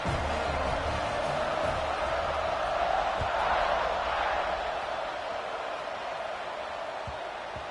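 A stadium crowd in the College Football 26 video game gives a steady, broad roar before kickoff, a continuous wash of massed voices without distinct peaks.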